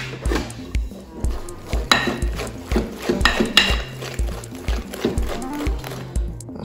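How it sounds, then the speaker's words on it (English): Scotch pancake batter being beaten by hand to work out the lumps, with repeated scraping knocks of a utensil against a bowl in a steady, uneven rhythm, close and fairly loud. "So you start to form a wee bit of a batter now. You want to beat the lumps out of it."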